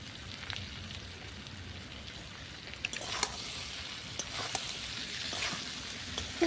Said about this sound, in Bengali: ভেজে রাখা ডিমগুলো দিয়ে দেবো, এর মধ্যে ভালো করে কষিয়ে নেবো ডিমগুলোর সাথে।